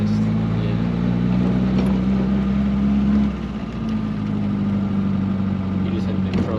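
A 1963 MG Midget's engine drones steadily while driving, a loud, buzzing tone with a brief dip in pitch midway as if shifting gears, with a voice speaking over it.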